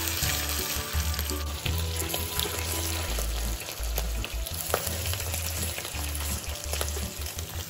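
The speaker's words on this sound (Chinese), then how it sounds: "接着将排骨直接放入，别在意油有点多，我们要的正是这拌煎炸的效果" Pork ribs sizzle and crackle in a generous amount of oil with caramelized sugar, a loud, continuous close-up frying hiss with occasional spatters and stirring, no talking.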